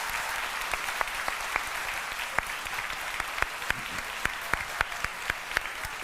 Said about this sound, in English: So just a round of applause for everybody in this room